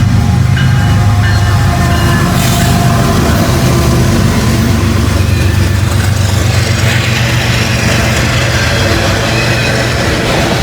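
A northbound CSX auto rack freight train passes close by, its loud, steady roar of wheels and railcars running continuously throughout without a break.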